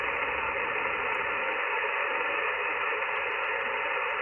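A Yaesu FTX-1 ham radio receiver on a ZS6BKW antenna puts out a steady, band-limited hiss of static with faint traces of signal, continuous and fairly quiet, with no talk.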